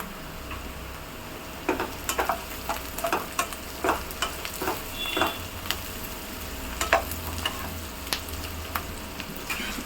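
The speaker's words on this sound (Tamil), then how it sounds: "பாருங்க வெங்காயம் வதங்கிருச்சு இன்னும் கொஞ்சம் வதங்கணும்" Onions and curry leaves sautéing in a pan, a steady low sizzle broken by frequent light ticking stir and scrape strokes at an uneven pace, with no talking.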